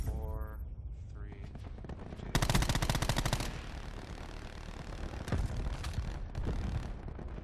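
Daemon 3XB gun fired in Black Ops 4, a tight rapid burst of automatic shots followed by scattered single cracks and short bursts, mixed with game sounds.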